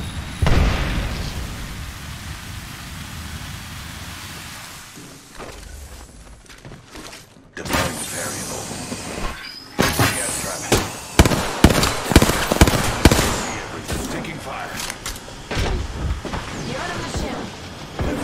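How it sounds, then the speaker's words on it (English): A thermite grenade in Apex Legends lands and burns with a loud, sustained crackling hiss. Sharp popping bursts and game action follow, close and dense. "Throwing thermite."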